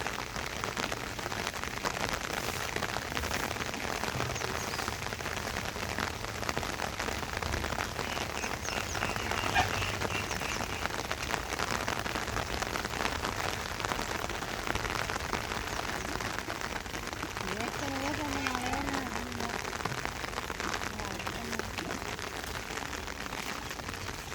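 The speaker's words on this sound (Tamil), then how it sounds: "காலையில் வெளியே எடுத்தால் இன்னமும் விடாமல் மழை பெஞ்சிக்கிட்டே இருப்பார்" Steady morning rain pours down outdoors in a continuous, even hiss that lasts the whole stretch, with no voices over it.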